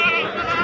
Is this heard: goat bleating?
yes